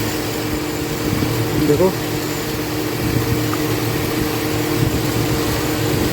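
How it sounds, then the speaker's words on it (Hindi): A GMC engine running rough and close to stalling while its wiring is wiggled, giving off a steady low mechanical hum with faint uneven knocks. Someone talks over it. "जैसे मैं वायरिंग हिला रहा हूँ इंजन में ज़्यादा वाइब्रेशन हो रहा है, इंजन जैसे बंद होने को हो रहा है"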